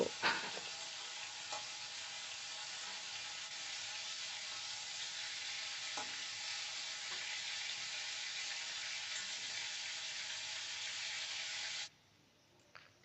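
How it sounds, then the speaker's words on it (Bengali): Prawns fry lightly in hot oil with a loud, steady sizzle that runs unbroken with occasional small crackles, then cuts out abruptly near the end. "চিংড়ি মাছগুলো হালকা ভেজে তুলে নেব হালকা সোনালি রং করে ভেজে তুলে নেব"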